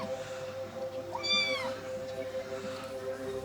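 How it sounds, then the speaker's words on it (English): A cat gives one clear, rising-and-falling meow in the middle of a quiet room with a steady background hum. "Listen to that meow."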